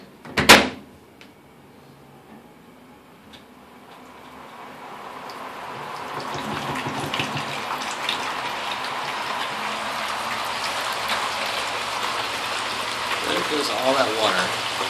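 A Nina Soft Spin centrifugal dryer spinning water out of wet clothes, starting with a sharp knock, then building into a steady, quiet whir with water rushing and dripping beneath it.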